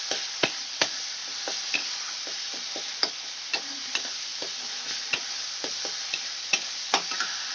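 Tomatoes for a pomfret curry cook gently in a pan over a low gas flame, with a soft even sizzle under regular sharp taps and scrapes of the spoon stirring, close and with no voices.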